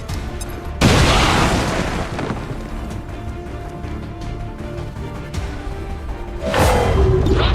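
Grenades blast in the video game XCOM 2: War of the Chosen, with a sudden heavy boom near the start and a second loud burst near the end, separated by a rumbling, crackling battlefield din.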